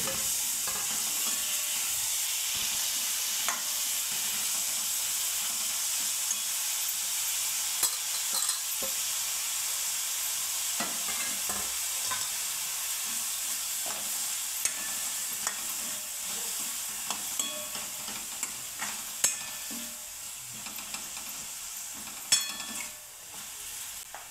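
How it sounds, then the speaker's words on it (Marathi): Finely chopped mushrooms fry in spiced oil, a steady hissing sizzle with scattered scraping and tapping as they are stirred in the pan. "आता आपण ही बारीक चिरलेली अळंबी जी आहे ती त्याच्यात घालून घेऊया आणि तिलाही छान मसाल्यांमध्ये परतून घेऊया"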